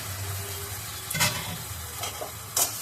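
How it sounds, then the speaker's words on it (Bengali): A ginger, onion and garlic spice paste fries in oil with a steady, moderate sizzle, broken twice by brief scraping stirs close by, and no one speaking. "এবার ওই যে পেস্ট করা মশলাটা এখানে ছেড়ে দেবো এটার সাথে মশলাটা একটু কষিয়ে নিই"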